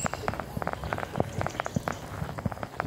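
Steady rain pattering outdoors, with scattered drops tapping nearby surfaces over a constant soft hiss.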